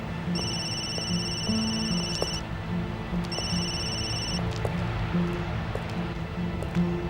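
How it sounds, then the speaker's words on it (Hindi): A phone rings in two long electronic trills separated by a short pause, clear over a steady background murmur of room noise and music in a dubbed drama. "तुम्हारा तो फोन बजता ही रहता है।"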